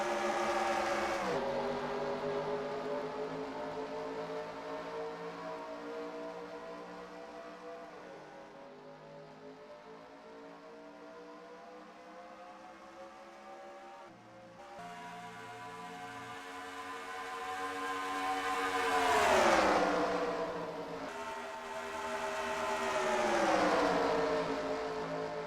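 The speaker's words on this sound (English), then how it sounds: "Trucks rolling through the tri-oval." Truck engines roar in a NASCAR-style racing video game at Charlotte, a pack rolling to the green flag with sustained droning harmonics, pitch sweeping up as trucks accelerate and two loud swells passing close.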